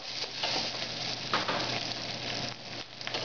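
Snow peas sizzle steadily in a hot pan as they are stir-fried for spicy udon, a dense, continuous frying hiss close up with occasional stirring crackles and no voices.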